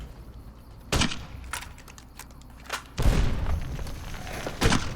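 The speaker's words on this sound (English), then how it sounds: "Just mortar strike them." Mortar strike explosions in Fallout: New Vegas land as several loud broadband booms at irregular intervals, with smaller thuds between them and a rumbling tail after the heaviest blast, over a low background hum with no talking.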